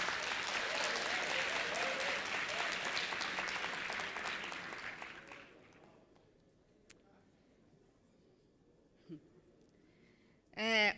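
Audience applause at a high school science and maths quiz competition, steady dense clapping for about five seconds that fades out, followed by near silence with a few faint knocks and a short sound at the end.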